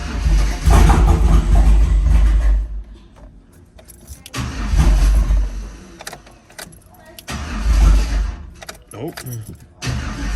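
A 2005 GMC truck fitted with a newly installed single turbo cranks over in about three loud, close bursts of starter whir and engine churn, with quieter pauses between attempts.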